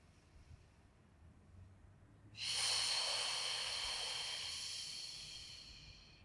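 A single long breath drawn in during a slow beginner Pilates back-strengthening workout, starting abruptly after a quiet pause as a soft airy hiss that slowly fades over several seconds, close and faint, with no talking.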